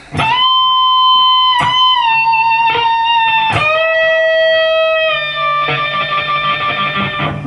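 An electric guitar plays a short lick of sustained, bent notes with a bright, slightly distorted tone, each note ringing out clearly.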